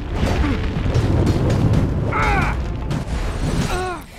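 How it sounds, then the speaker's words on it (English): A Flame Blast spell in Dragon Age: Origins erupts as a loud, sustained fiery roar. Clashing combat and short creature cries run through it. "Now we're going to hit him with Flame Blast"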